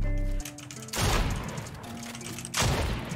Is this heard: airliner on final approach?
no